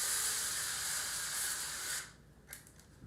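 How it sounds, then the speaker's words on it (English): Cooking spray hissing from a can onto a pan in a home kitchen: one steady spray for about two seconds, then a couple of faint clicks and light handling noises. "I'm going to spray my pan"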